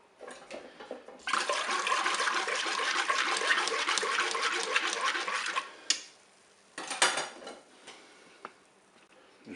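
Cornstarch diluted in water poured into a Cookeo pot for a crustless flan, a steady close splashing pour of several seconds, followed by a few sharp clinks and knocks of a utensil against the bowl.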